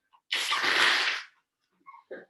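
A single loud, close sneeze bursts out and lasts about a second during a quiet restorative rest session, followed by two brief soft breathy sounds.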